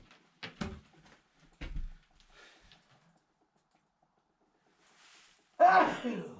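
A single sharp sneeze bursts out near the end, preceded by a few brief knocks and faint murmurs in an otherwise quiet room.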